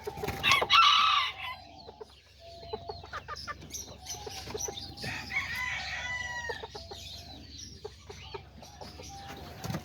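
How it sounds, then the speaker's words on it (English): Aztec chickens cluck and a rooster crows nearby on a small farm, with a loud burst of calls at the start and then ongoing overlapping clucks and chirps. "Even that little chicken right there."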